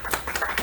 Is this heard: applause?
yes